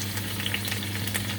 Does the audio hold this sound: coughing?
no